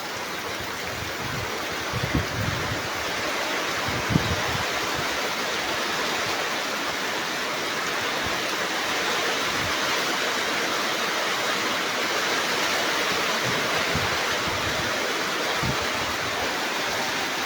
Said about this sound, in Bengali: অনেক অনেক বৃষ্টি হইতেছে